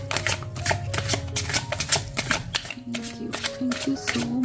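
Tarot cards being shuffled and handled at close range, a steady run of soft riffling clicks and slaps with faint background music tones underneath and no talk.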